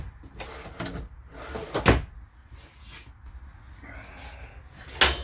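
Wooden drawers under a stainless steel sink in a Starcraft Autumn Ridge toy hauler RV slide and bump shut a few times, with a sharp knock near the middle and another toward the end, fairly close and otherwise quiet.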